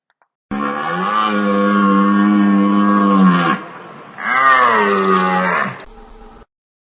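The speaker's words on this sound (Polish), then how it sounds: "jelenie" A red deer stag roars twice, long deep bellowing calls with a rough, throaty edge, loud and close, the second call shorter and rising then falling.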